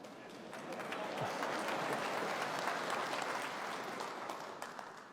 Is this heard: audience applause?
yes